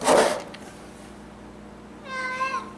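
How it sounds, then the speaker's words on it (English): Cat meowing for food indoors, one drawn-out, rising and falling meow near the end, close and clear after a brief noisy start. "You're just a fat cat anyway."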